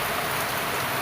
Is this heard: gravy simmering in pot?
no